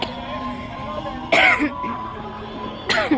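Two short, sharp coughs, one near the middle and another at the end, over a quiet background hum.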